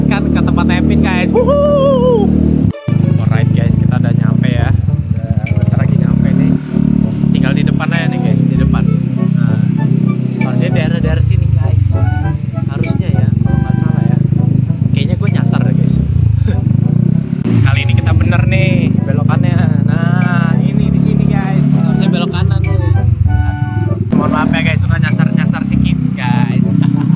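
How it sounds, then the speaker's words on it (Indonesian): Motorcycle ridden through town, a steady engine drone with occasional revving and clatter running the whole time beneath near-constant loud talking from the riders. "Kita udah naik motor."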